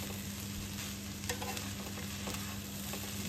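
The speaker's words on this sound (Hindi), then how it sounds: "and then just give it a mix, proper mix देंगे हम इसको" Egg fried rice is mixed in a hot pan, a steady soft sizzle running under light scraping and stirring strokes, fairly quiet and without talk.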